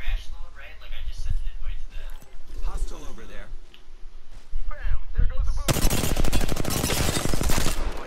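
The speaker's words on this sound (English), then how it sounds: "Opening fire on the enemy" Video game gunfire from a squad shooter, dense bursts of shots building to a loud sustained fusillade in the final seconds, layered over in-game voice lines and background game sounds.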